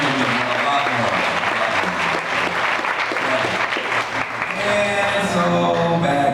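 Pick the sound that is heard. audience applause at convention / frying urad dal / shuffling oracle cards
audience applause at convention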